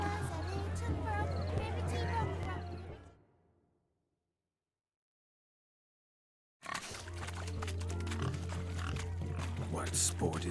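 Pigs oink and grunt in a busy village in The Witcher 3, with crowd babble underneath. The sound cuts to silence for a few seconds, then the oinking and chatter return at the same level.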